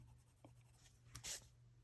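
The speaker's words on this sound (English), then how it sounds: "so I'm just going to do that with my pencil." Pencil scratching across paper while extending a drawn element, a few quiet strokes with one brief firmer scribble near the end, close and alone.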